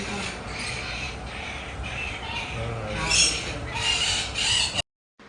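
Parrots calling with harsh, raspy squawks and screeches, loud and close, overlapping in bursts for a few seconds before cutting off abruptly.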